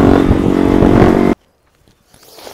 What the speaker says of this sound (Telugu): రన్నింగ్లో అయితే ఇట్లా సౌండ్ వస్తుంది. దానికి డీబీ కిల్లర్ ఉందన్నమాట.